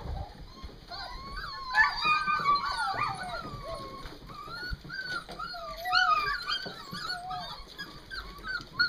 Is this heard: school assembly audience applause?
no